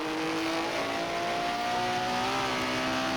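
A 1950s Formula 1 race car at Pescara 1957 in a racing simulation accelerates out of a corner, its engine a steady, loud rising drone with a whining tone and no talking.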